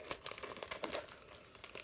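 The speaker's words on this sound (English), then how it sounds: "I'm going to cut away the bit that says Tesco's on it so that I'm just left with a sheet of plastic behind" Clear plastic from a Tesco carrier bag being cut away, giving a close, continuous crinkling and rustling with small sharp snips and crackles throughout.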